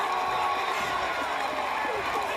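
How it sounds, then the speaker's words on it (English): A Maryland lacrosse crowd roars in a steady, broad wash of cheering at Shuart Stadium during an NCAA men's quarterfinal against Duke, with a commentator talking over it. "The Maryland crowd ignites here at Shuart Stadium."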